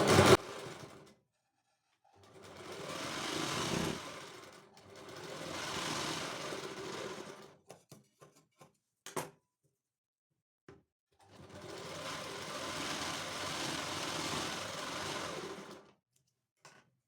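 Sewing machine stitching a hook strip onto a blouse, running in three sustained bursts with short pauses, scattered clicks and handling noises in between.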